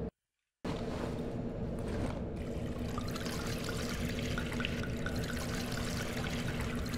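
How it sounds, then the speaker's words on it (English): Gasoline poured into a generator in the video game Darkwood, a steady liquid trickle and pour that runs continuously for several seconds after a brief silent gap, with no talk. "Hold right mouse button, followed by left mouse button, to pour the gasoline."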